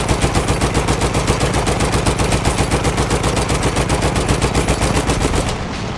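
Heavy enemy machine-gun fire in Battlefield 1 pounds out as a dense, rapid, evenly spaced stream of loud shots, close and continuous for several seconds before stopping abruptly, with no talking over it.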